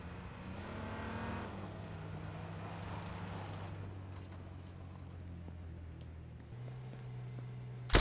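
A damaged car driving in the H1Z1 game, its engine a fairly faint, steady droning hum that shifts lower partway through, then climbs to a higher pitch near the end.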